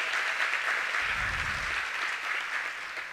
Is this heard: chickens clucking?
no